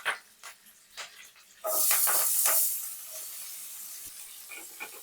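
Onions hit hot oil and sizzle into a sudden loud hiss that fades to a steady softer fry. Scattered light clinks come before it, cumin, curry leaves and green chili are already in the pan.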